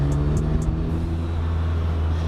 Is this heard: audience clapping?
no